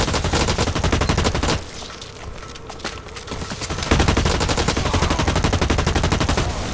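Sustained automatic gunfire in the shooter Blacklight Retribution during Onslaught mode, loud dense rapid bursts that ease off briefly midway and then resume at full intensity, with no talk.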